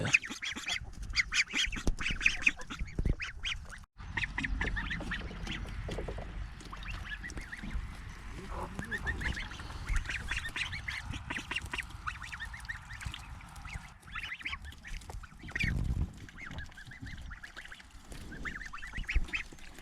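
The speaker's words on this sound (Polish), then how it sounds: "Kaczuszki się już układają do spania." A group of ducks quack and murmur softly in an aviary enclosure as they settle down to sleep, a continuous close chatter of low calls and rustling with no talk.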